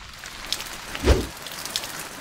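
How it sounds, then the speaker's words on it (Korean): Rain falls steadily outside a lab, a soft continuous patter with one duller thump near the middle, faint and unaccompanied by speech. "비가 오네요"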